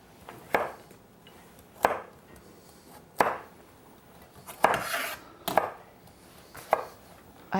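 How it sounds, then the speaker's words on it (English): A kitchen knife chops a carrot on a cutting board in six sharp, unevenly spaced strikes, each a crisp close-up knock followed by light scraping, with no talk. "you're chopping straight up and down, aren't you?"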